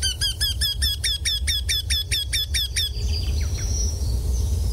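A played recording of a Eurasian wryneck gives a fast series of about a dozen loud, nasal, evenly spaced squawking notes, then stops, leaving a low background rumble and faint distant sounds.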